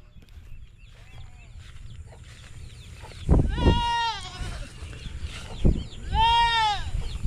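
A goat on a farm bleats several times, in loud, close, quavering calls near the middle and end, with faint voices and soft background noise underneath.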